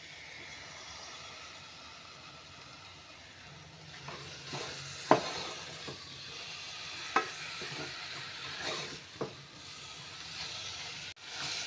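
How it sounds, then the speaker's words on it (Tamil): Tomatoes sauté in a pan for mutton gravy, giving a steady low sizzle with occasional sharp spoon knocks and scrapes, close and without talk. "இந்த அளவுக்கு தக்காளி போட்டு வதக்கி விட்டோன்னு"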